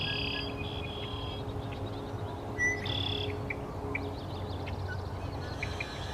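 A male red-winged blackbird gives repeated short, high alarm calls from nearby in the open, thin bright notes spaced over quiet background hiss.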